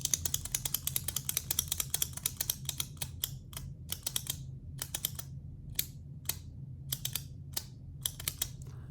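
A Parker Jotter ballpoint pen is clicked over and over, producing sharp, dry plastic-and-metal snaps close to the microphone, some in quick bursts and others spaced apart, with no voices.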